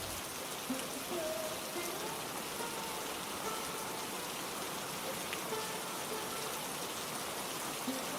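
Steady rain falling outside a poor family's home, a dense even hiss that holds unchanged throughout with no voices.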